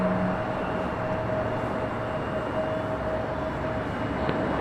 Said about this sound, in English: It's Rudy's favorite, the Viva Aerobus in the lime and green livery.